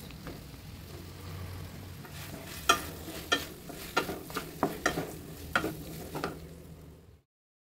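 Chilli chicken stir frying in a pan, a steady sizzle under repeated sharp scrapes and knocks of a spatula against the metal, close, ending abruptly in silence.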